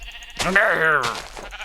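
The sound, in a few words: sheep bleating in Minecraft video game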